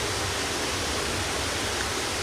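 Heavy rain pours outside during a thunderstorm, a dense, steady roaring hiss that fills the whole stretch evenly and loudly, with no voices.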